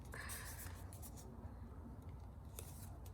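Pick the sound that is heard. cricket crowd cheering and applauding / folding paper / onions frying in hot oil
folding paper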